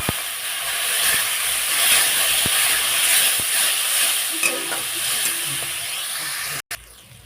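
Cauliflower curry with ground cumin, a little water and sugar frying in a pan, giving a steady broadband sizzle with occasional stirring clinks and scrapes, close and continuous throughout.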